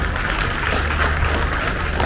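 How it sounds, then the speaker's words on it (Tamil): Audience clapping steadily throughout at a Tamil motivational speech event, loud and dense with a low crowd murmur underneath. "கைதட்டு கொடுங்க"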